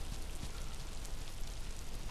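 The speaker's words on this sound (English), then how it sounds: "It's only 3 o'clock, but it's just pissing rain." Heavy rain in the video game Miasmata, a dense, even hiss of pouring rainfall filling the whole moment, no voices.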